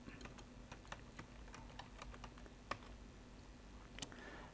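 Fingers tap out a command on a computer keyboard in Command Prompt, with quiet, uneven clicks and occasional sharper key strikes heard close by in a silent room.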